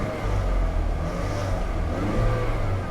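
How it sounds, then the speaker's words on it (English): A car engine revving briefly after a cold start, a loud, close, steady mid-pitched drone that rises slightly, running a little rough, with no voices. "Let's give it a little rev."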